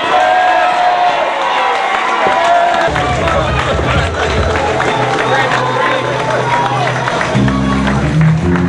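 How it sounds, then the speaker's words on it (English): A crowd at a political rally in St. Vincent and the Grenadines cheers and applauds loudly and without a break, with shouting voices mixed into the roar of clapping. "Let's give another round of applause."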